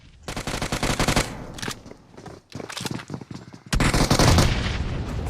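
Rapid bursts of gunfire ring out in PUBG Mobile, including DBS shotgun blasts, in loud clustered volleys split by short gaps, ending in a sustained stretch of heavy shooting, with no talk.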